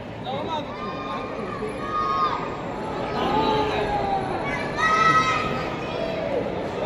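A dense crowd at a Ganesh idol procession in Ashta during Ganesh Chaturthi fills the scene with continuous babble, nearby voices and shouts, and occasional cries rising out of the steady hubbub.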